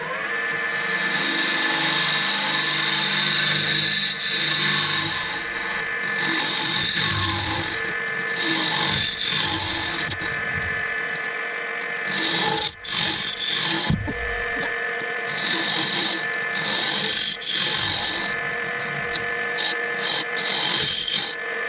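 A carbide tool cuts a wooden Viking-style drinking cup spinning on a lathe, giving a close, loud scraping rasp in repeated bursts over the motor hum, with brief pauses between cuts.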